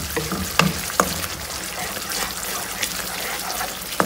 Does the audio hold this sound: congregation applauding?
no